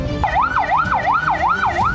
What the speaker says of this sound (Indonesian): Bahkan ambulans mengangkut pasien gawat darurat ikut terjebak macet tak bergerak di jalan akses tol Tanjung Priok.